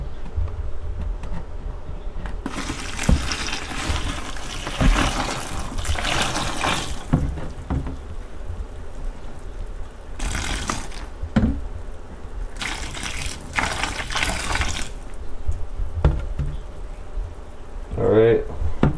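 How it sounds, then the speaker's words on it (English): Water pours and trickles into a springtail colony container in several separate bursts of splashing, some brief and some sustained, with quieter pauses between them. "And then we're gonna add water"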